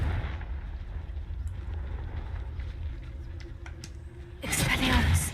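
A Confringo spell explosion in Hogwarts Legacy bursts out as a sudden loud, crackling blast that cuts through low rumbling game noise near the end.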